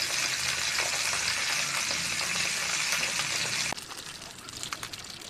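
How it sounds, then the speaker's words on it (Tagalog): Eggplant frying in hot oil gives a loud, dense crackling sizzle that drops abruptly to a quieter, sputtering fry with scattered pops near the end. "Bali na iprito ko na yung talong"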